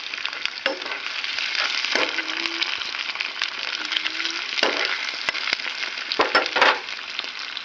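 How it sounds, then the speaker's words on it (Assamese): Onion, bay leaf and chili hit hot oil in a wok, giving a loud, steady sizzle with a few crackles and utensil scrapes. It runs alone for the whole stretch with no talking. "কেৰাহীত তেল গৰম হৈ আছিলে, সেয়ে পিঁয়াজ, তেজপাত, জলকীয়া দি দিলোঁ।"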